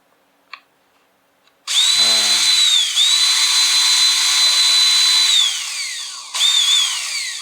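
A cordless drill that has a fault making it suddenly cut out: after a small click, its motor whines loud and steady at high pitch, dips once, winds down, then briefly spins up again.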